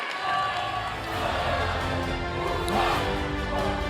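A steady wash of crowd applause and cheering fills a presidential debate hall after the Q&A session with three candidates, sustained and broad throughout with no distinct voice on top.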